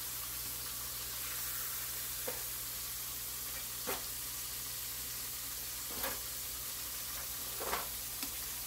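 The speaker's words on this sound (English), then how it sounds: "I'm also going to stir to the bottom and make sure nothing's stuck at the bottom" Cube steak simmering in gravy in a pan on the stovetop, a steady low sizzle with a few soft scraping spoon strokes along the bottom, close and quiet, no talking.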